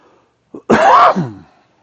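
A single close, harsh cough with a short catch before it, loud and raspy, then quiet.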